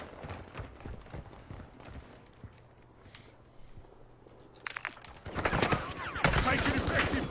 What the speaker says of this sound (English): Just got shot at from the distance.